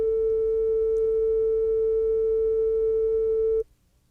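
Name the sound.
sine wave tones changing amplitude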